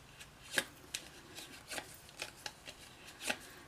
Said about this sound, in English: we're going to take our scoring tool and we're going to curve the edges of all 4 panels here